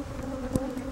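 Honeybees buzzing around a beehive being worked, a steady close hum with a brief knock or thud midway.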